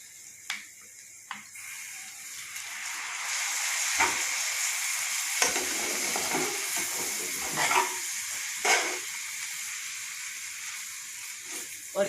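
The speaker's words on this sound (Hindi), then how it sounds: "अब हम इसमें ये चम्मच, एक डोंगे वाला चम्मच सिरका डालेंगे, सफ़ेद सिरका।" White vinegar poured into a pan of frying chicken filling brings a bright, loud hiss of sizzling, broken by a few spoon clinks and scrapes against the pan, close and steady throughout.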